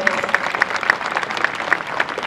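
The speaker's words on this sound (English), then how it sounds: "You can give a big round of applause to them." Audience applause for a graduating batch with strong placement success at a college ceremony, dense continuous clapping with sharp individual claps standing out, close and lively.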